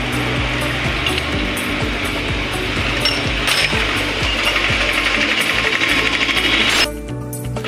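Ratchet wrench clicking in quick repeated strokes while a clutch is pulled from a Splendor motorcycle engine during a repair, close and steady with metallic mechanical clatter, ending abruptly near the end.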